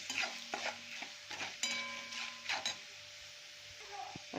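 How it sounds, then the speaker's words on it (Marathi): Salt, coriander powder and cumin powder are stirred in a frying pan with a spoon, giving repeated close scrapes and taps over a light sizzle. "त्यानंतर मीठ ॲड करूया त्यानंतर धना आणि जिरा पावडर हे सर्व मिक्स करून घेऊया"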